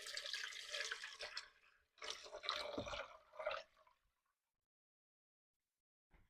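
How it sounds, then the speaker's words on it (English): Tap water pours into a pet water fountain's reservoir in two splashy bursts of about two and four seconds, close, then near silence broken by a faint late drip. "Okay, we're going to fill it with water."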